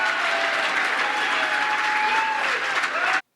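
Evangelical crowd clapping and applauding at a Trump speech, a dense, steady wash of many hands at close, loud level that stops abruptly at the end.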